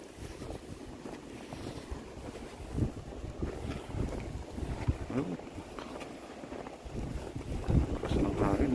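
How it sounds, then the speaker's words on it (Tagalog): Strong wind during a Montreal snowstorm roars steadily into the microphone for the whole stretch, with gusty surges and buffeting rumble, mixed with the hiss of blowing snow and some street noise nearby. "Malakas ang snowstorm. Lakas ng hangin"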